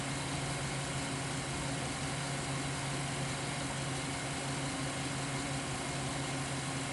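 A car engine hums steadily at low pitch while the car is driven, a constant droning rumble with mild vibration and no break across the whole stretch.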